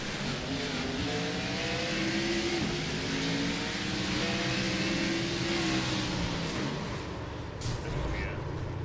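Onboard race car engine in the iRacing sim at Phoenix, a steady loud drone with rising and falling pitch as the car accelerates and lifts, continuous throughout with a brief bump near the end.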